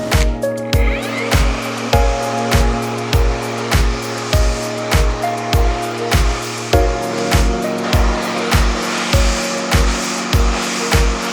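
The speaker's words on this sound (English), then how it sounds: "And I will be starting drying it now." A hair dryer blows steadily, close and loud, while a fringe is dried, with a rhythmic pulsing whoosh as it sweeps back and forth roughly every half second.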